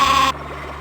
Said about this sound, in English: Stereo sheep.